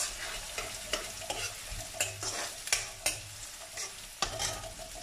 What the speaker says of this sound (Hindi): प्याज है वो भी इसी के अंदर डाल देते हैं, और अच्छे से इनको करना है फ्राई